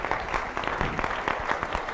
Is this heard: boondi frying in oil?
no